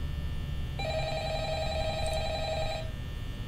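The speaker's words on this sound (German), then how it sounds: "Telefon? Kann man nicht annehmen." Telephone ringing in the Five Nights at Freddy's video game, a single steady electronic ring lasting about two seconds over a constant low background hum, with no talking.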